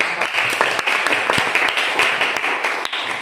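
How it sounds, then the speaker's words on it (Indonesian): An audience in a classroom applauds a group's presentation, a steady wash of many hands clapping together for a few seconds, close and fairly loud, with a faint voice underneath. "Beri aplaus untuk kelompok 4."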